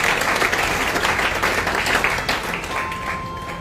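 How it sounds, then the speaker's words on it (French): A congregation at a Cameroonian church service breaks into sustained applause and clapping, loud and dense throughout, easing slightly toward the end as the crowd noise settles. "Alléluia, acclamons pour le Seigneur Jésus-Christ."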